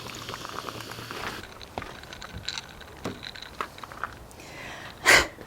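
Sparkling water with electrolytes is poured over ice and fizzes with a steady, faint crackle, close by, ending in a brief louder splash of pouring.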